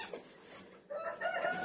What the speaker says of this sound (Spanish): este gallito, que es un gallito azteca